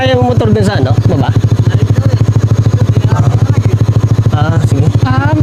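A motorcycle engine idles nearby with a rapid, even putt-putt pulse lasting the whole stretch, while people talk over it near a limestone cave campsite in Norzagaray, Bulacan.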